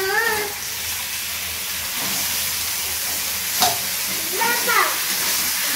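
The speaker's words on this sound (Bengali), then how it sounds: "আমি এবার চিকেনগুলোর মধ্যে ঢেলে দিচ্ছি" A mixture poured onto chicken in a hot pan sets off a steady, close sizzle and hiss with a few stirring clinks, holding evenly throughout.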